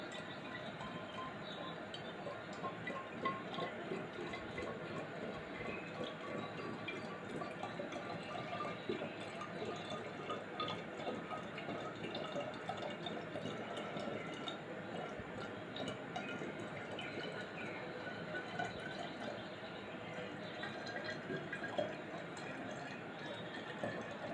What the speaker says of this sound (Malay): Dan kila akan letak air, penuhkan dia.